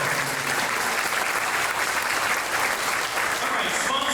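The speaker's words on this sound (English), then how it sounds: "One more round of applause." Sustained audience applause at the East Alabama Chamber of Commerce annual dinner and awards, a dense, steady wash of many hands clapping at even loudness from start to finish.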